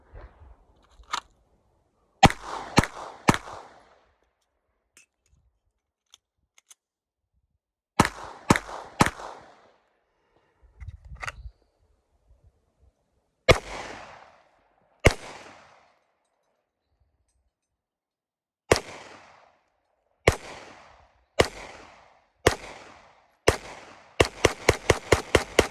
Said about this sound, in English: I'm gonna shoot 5 shots.